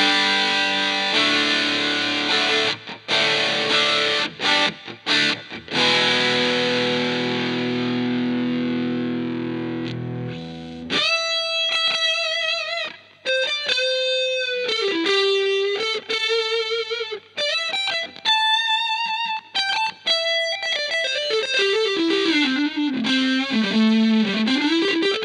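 Electric guitar played through a DV Mark DV Micro 50 CMT head with the drive turned to maximum, a loud saturated strummed chord ringing out, then distorted single-note lines and bends with sustained, overdriven tone.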